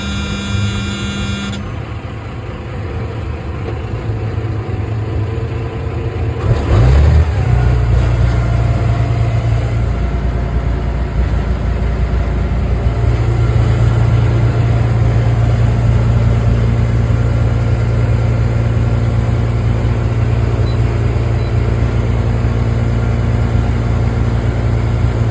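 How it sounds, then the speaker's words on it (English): A boat engine cold-starts with a brief cranking burst, then settles into a loud, steady, low rumbling idle that continues without interruption. "Engine. Gotta power that up for you, give you a cold start."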